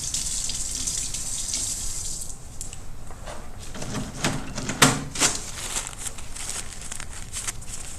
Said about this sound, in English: You may just want to rinse that under the sink.